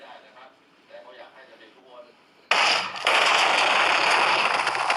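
In Minecraft, after a few seconds of quiet murmuring, a sudden loud explosive blast erupts and is followed by a sustained, harsh roaring rumble.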